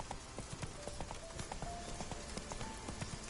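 Roach the horse trots in Witcher 3, hooves clip-clopping in a quick, even rhythm at close range, with faint tonal game sounds in the background.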